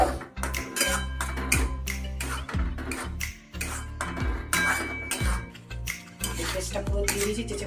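A utensil stirs fried garlic and paste in a metal pan, giving irregular clinks, scrapes and knocks close by with brief pauses between strokes.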